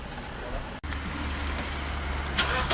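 A stationary Toyota engine idles with a steady, even low rumble that holds constant throughout, broken only by a momentary dropout near the start.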